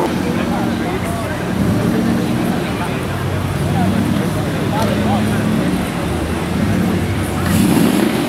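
A hot rod car pulls into an outdoor car meet at Praça Espanha in Curitiba, Brazil, with a low engine rumble that swells a few times over steady traffic and crowd background, and a voice speaks over it.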